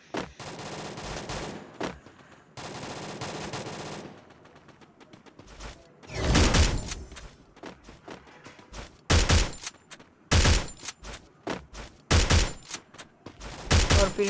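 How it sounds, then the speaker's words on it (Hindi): Gunfire in the video game Free Fire, long sustained bursts of automatic fire alternating with heavy single shots and rapid volleys, loud and close with brief pauses between. "खाली फोकट का फायर कर रहा था उसको पैनिक करने के लिए"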